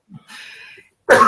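A person coughs once in a sharp, loud burst at the end, preceded by a soft breathy clearing sound, close to the microphone in an otherwise quiet room.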